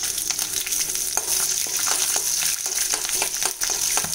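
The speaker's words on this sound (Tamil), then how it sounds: "அடுத்ததாக காஞ்ச மிளகா, பச்சை மிளகா கொஞ்சம் சேர்த்துக்கிறேன்." Dried red and green chilies fry in hot oil for wheat rava upma, giving a steady, close, loud sizzle with occasional stirring scrapes and no voices.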